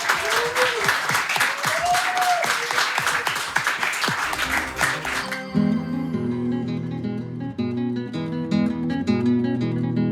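Audience applause for a singer-songwriter on a television music program, a broad wash of clapping over the first half, then giving way as music begins.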